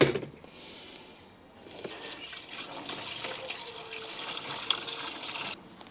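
Water poured into the empty waste tank of a motorhome, a steady gushing splash that starts softly, then swells and runs continuously before stopping abruptly near the end.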